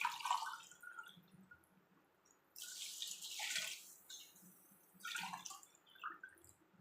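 Water is poured into a pot of cooked mutton gravy in a few faint, separate splashing bursts, quiet and close, with near silence between pours.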